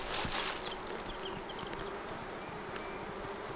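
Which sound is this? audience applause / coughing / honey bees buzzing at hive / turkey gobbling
honey bees buzzing at hive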